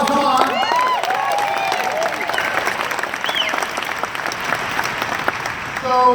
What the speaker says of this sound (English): Give a round of applause, come on.